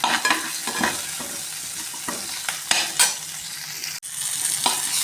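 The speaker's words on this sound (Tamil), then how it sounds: "இது கூடவே ஒரு கத்து கருவேப்பிலையும் சேர்த்துக்கணும் ஒரு தக்காளியும் சேர்த்து நல்லா வதக்கணும்" Curry leaves and tomato sauté in a pan for garlic kulambu: a loud, close sizzle broken by repeated scraping stirs and one brief cutoff before the frying resumes.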